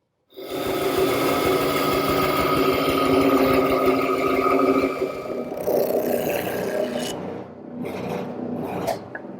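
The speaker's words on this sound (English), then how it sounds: "we'll rough it at the bandsaw." A bandsaw rough-cuts a hard maple chair part, starting abruptly with a loud, continuous buzzing cut that eases into rougher, uneven grinding before trailing off near the end.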